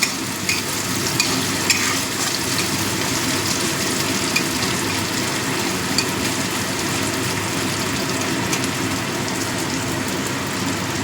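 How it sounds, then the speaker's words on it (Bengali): Chopped onions fry in hot oil in a pan, giving a loud, steady sizzle with stirring scrapes throughout, close and without talk. "এবার দিয়ে দিচ্ছি পেঁয়াজ কুচি ভালো করে ভেজে নেবো"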